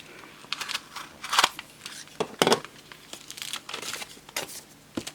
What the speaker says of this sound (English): Completely covered in tape, so I'm going to have to use an actual knife to get through this.